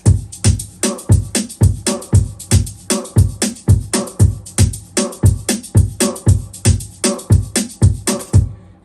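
Dance beat with chopped vocal samples layered over a steady kick and snare groove, rapid rhythmic hits repeating evenly throughout, loud and close with no speech.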